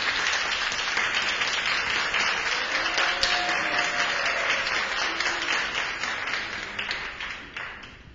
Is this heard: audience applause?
yes